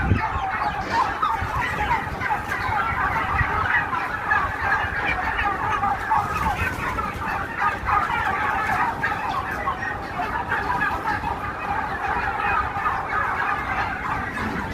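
Many chickens cluck and call together at a poultry farm, a dense steady chatter of fowl sounds carrying on throughout at an even level.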